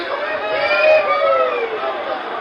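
Rodeo crowd murmuring and chattering, a dense babble of many voices with a brief swell, heard from within the stands.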